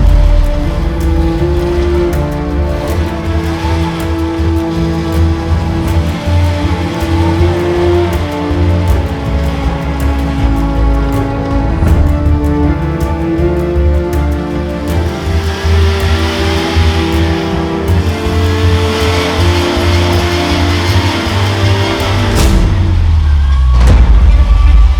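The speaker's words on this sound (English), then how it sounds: "Angus exercised his rev limiter in Angus fashion and was able to recover Bryce's YJ from the ditch." An off-road Jeep YJ engine revs hard and holds against the rev limiter in snow, a loud, steady, near roar with harmonic bands held for about 20 seconds before the pitch drops.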